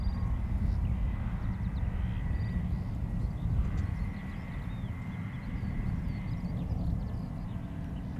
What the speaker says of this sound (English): Pilatus PC-12 on the move.